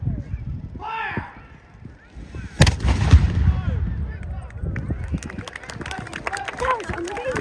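A colonial cannon fires at Colonial Williamsburg, Virginia, one loud booming blast with a rumbling tail, amid crowd noise and voices before and after.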